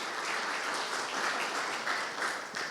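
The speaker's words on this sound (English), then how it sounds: "let's give Aaron a round of applause" Applause from an audience at a leadership strategic planning session, a dense, steady round of clapping from a room of people filling the whole stretch.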